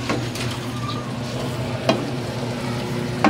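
Bicol Express with red chili stirred in a sizzling pan, a steady frying hiss with occasional scrapes and clinks of the utensil, close and alone.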